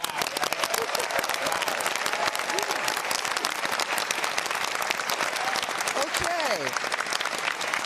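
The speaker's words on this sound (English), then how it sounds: "let's get a round of applause for Pomona College and where we are in this beautiful venue" An audience at a Pomona College venue breaks into loud, sustained applause with dense clapping and some cheering, while a speaker talks briefly over it.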